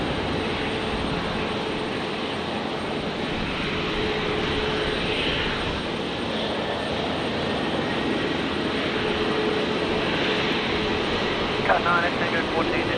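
A Qantas Airbus A330-300 jet arriving from Auckland lands on runway 01 right at Brisbane airport, a steady, loud broadband engine roar that holds throughout with little change.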